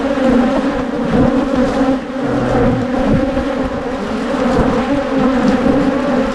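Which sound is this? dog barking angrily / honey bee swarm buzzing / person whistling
honey bee swarm buzzing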